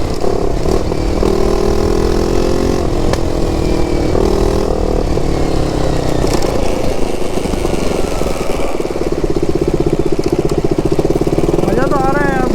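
A KTM RC390 BS3 motorcycle rides at night on a rough road, its single-cylinder exhaust droning loud and close and broken by sharp popping and crackling bursts, with wind and road noise around it.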